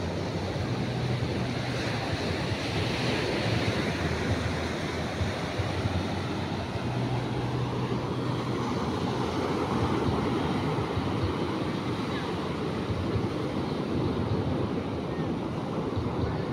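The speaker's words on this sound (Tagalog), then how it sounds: "Yan, dito tayo sa alon." Angry ocean surf rolling in along the Casiguran coast, a steady continuous roar of breaking waves with wind rumbling on the microphone, no talk.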